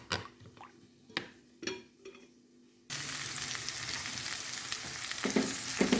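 Chopped onion and carrot frying in a pan, first a few quiet stirs and scrapes, then a steady loud sizzle that fills the rest of the moment with crackling spatter.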